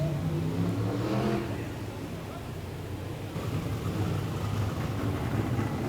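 A Super Sedan race car rolls out onto a dirt speedway track, its engine a steady mid-range rumble that rises and falls at moderate distance, with a commentator talking over it.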